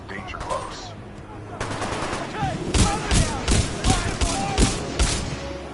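Supporting gunfire from the Titanfall 2 campaign pounds in a run of heavy, evenly spaced shots, loud and near, over a dense battle bed with voices heard faintly.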